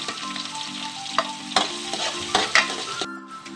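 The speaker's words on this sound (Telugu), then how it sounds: "ఇప్పుడు కట్ చేసి పెట్టుకున్న ఆనియన్స్ వేసుకుందాం పచ్చిమిరపకాయలు కూడా వేసుకుందాం" Sliced onions and green chillies fry with curry leaves in hot oil for a fenugreek leaf curry, giving a steady sizzle under loud scraping stir strokes, with a brief quieter moment near the end.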